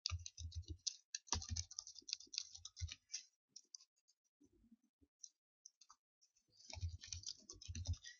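Fingers type PHP code on a computer keyboard, with quick bursts of close clicking key presses, a long quieter pause, then another rapid burst of typing at the end.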